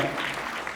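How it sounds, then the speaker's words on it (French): Audience at a university graduation ceremony applauding, a dense, continuous wash of clapping hands filling the brief moment at steady volume. "un tonnerre d'applaudissements pour la marraine de la promotion"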